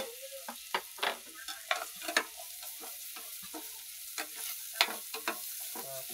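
Rice being sautéed in a pan for arroz caldo, with repeated scraping stirs over a low sizzle, the strokes irregular and close, with no voices.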